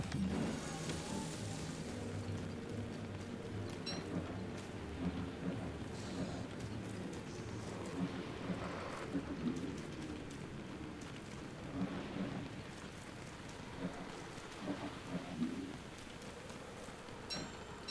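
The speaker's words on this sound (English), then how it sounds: "I'm gonna have to make it rain again. I'm not allowed to not have it rain." Rain and thunder in the survival game Don't Starve, a steady wash of rainfall with low rumbling thunder rolling underneath, carrying on evenly throughout with a few swells and no talking.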